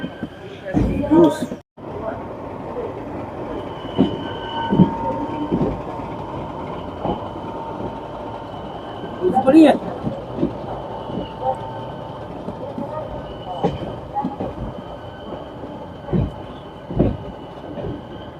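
The Ranikhet Express pulls out and rolls along the rails, heard from on board: a steady low rumble with intermittent clunks and wheel knocks, plus a faint high squeal in the middle, while a person talks over it.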